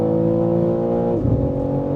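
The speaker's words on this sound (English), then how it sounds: "Let's give it full throttle here" A 650 hp Manhart MH3 650 BMW M3 Touring at full throttle on the Autobahn, a loud continuous engine roar heard from the cabin, dipping briefly midway as if shifting gear before pulling on strongly.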